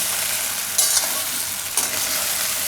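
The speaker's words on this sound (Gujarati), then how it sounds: "આ રીતે તાવીથો લઈ અને ધીરે ધીરે એમ ભાંગે નહીં એમ મિક્સ કરવાનું." A spatula gently folds spinach muthiya through a hot tempering in a pan, giving a steady close sizzle with two soft scraping strokes and no talk.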